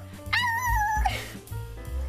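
A person vocally imitates a baby wolf howling, giving one rising, wavering whine that slides down at the end, close to the microphone, followed by low murmuring and background noise.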